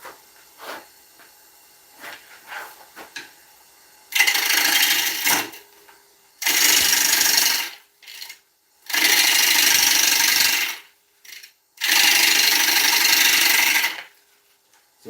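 A bowl gouge cuts into a British ash bowl turning on a wood lathe, making four long bursts of loud, rough scraping hiss separated by short pauses, with fainter scratchy touches between and no talk.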